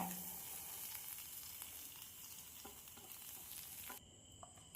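Fried fish pieces and masala mix being stirred together for fish pickle, a steady soft scraping and sizzle-like rustle with no talk, ending in a quieter tail.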